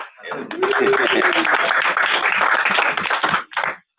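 An audience at an Alaska energy talk breaks into applause, with dense clapping close by that holds steady for about three seconds, then thins and stops abruptly. A voice may sit faintly beneath it.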